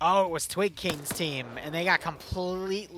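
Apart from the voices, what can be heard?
No everyday noises stand out.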